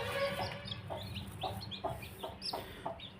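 Hens nesting on sand and straw cluck in short repeated bursts beside newly hatched chicks, the calls close and fairly loud over a steady farmyard background, with faint high peeps in between.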